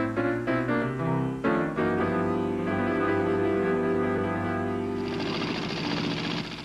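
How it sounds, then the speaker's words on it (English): A sewing machine stitches leather patches for T-shirts, running as a steady, continuous mechanical drone close by and without pause or speech. "Diane Doucette sews leather patches for T-shirts."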